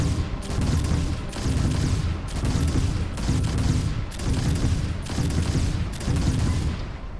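Ship guns fire in the Starfield space game as a loud, dense barrage of rapid bursts, pulsing in roughly one-second waves with brief dips between volleys, and no voices.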